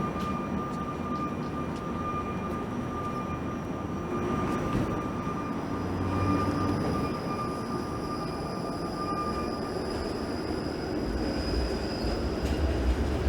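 A Toronto streetcar runs on rails at Bay Street downtown in below-zero winter, a steady rumbling roll with a sustained high wheel whine and squeal layered over wide street noise, fairly near and continuous.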